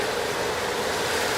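Ocean waves from a seascape recording played back indoors, a soft continuous wash of surf with no distinct breaks.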